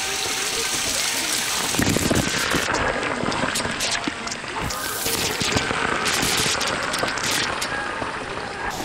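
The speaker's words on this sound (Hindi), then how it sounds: "और ऊपर से काफ़ी तेज़ बारिश थी।" Heavy rain pours on a mountain stair trek, a dense broadband hiss with spattering drops and clattering impacts close by. It runs steadily throughout with no talking.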